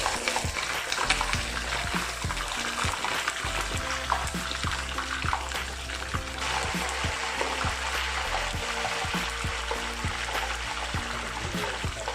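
Crispy pork belly frying in oil, a dense, continuous close-up sizzle with bubbling crackles and occasional spatters, steady and loud throughout with no talking.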